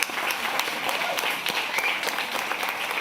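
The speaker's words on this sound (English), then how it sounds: "A nice big round of applause, please, people, please." Audience applause at a photography awards ceremony, a sustained, fairly loud wash of many hands clapping at a steady level throughout.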